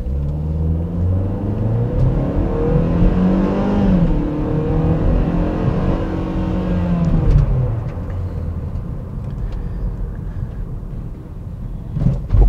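A Chevrolet Cruze LT with a 1.8 Ecotec 16-valve engine accelerates, its engine note rising through the gears in a loud, close rumble that eases off near the end, with no talking.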